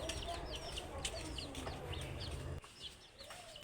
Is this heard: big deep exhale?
no